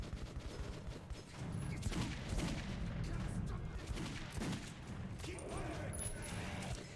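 Gunfire in the video game Metro, a dense continuous stream of shots and booms over several seconds, with a voice shouting underneath.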